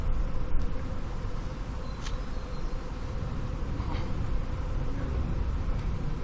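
A honeybee swarm buzzes near hives kept on garage roofs, a dense continuous drone holding steady and loud throughout with a few brief faint clicks.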